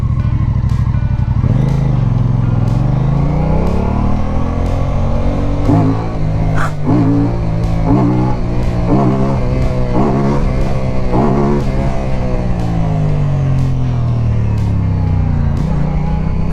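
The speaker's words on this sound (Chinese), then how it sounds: "感受一下这个车的声浪" A Qjmotor Race 550s motorcycle engine is revved hard in second gear, loud and close, its pitch sweeping down and then climbing repeatedly through a series of rising and falling pulls.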